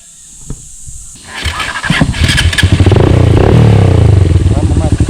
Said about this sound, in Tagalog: Ang motor natin ay CRF at isang 200cc ni Tantan.